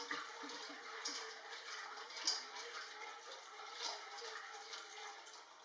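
Water sloshes and splashes continuously in a bowl as starch is rinsed out, with soft rinsing swishes and trickles at close range, no voices.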